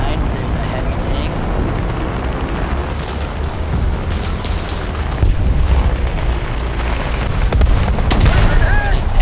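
Artillery strike in War Thunder, a tank battle game: a dense, continuous roar of heavy booms and rumbling blasts, with louder impacts toward the end and no clear talk.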